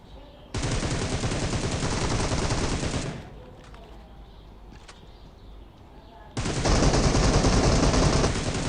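Rapid automatic gunfire from PUBG Mobile played on an iPad Mini 5 comes in two loud bursts of several seconds each, split by a quieter gap of game ambience.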